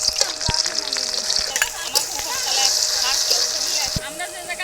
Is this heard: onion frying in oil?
yes